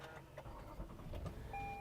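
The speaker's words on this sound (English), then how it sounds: "Engine fires up." A Toyota car engine cranks and starts on a newly programmed spare key, a fairly quiet, steady mechanical rumble with a faint electrical whine near the end.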